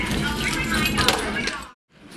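Keys jingle and clink while someone unlocks an armory door, a busy metallic rattle that runs for a second and a half before stopping abruptly, followed by quiet room tone.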